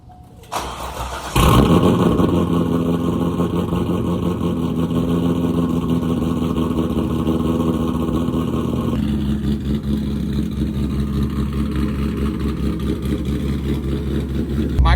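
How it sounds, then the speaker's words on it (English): Chevrolet Corvette with a loud exhaust firing up from cold: the starter catches and the engine flares to a loud, close rumble, then settles into a steady high idle that drops slightly partway through and holds. "I'm gonna give y'all a little cold start"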